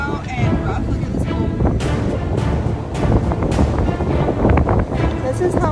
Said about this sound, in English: it's so windy right now, and rough